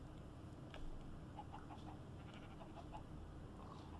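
Sheep bleating in the Minecraft video game, a few faint, short calls repeating over a steady background of game ambience and low rumble.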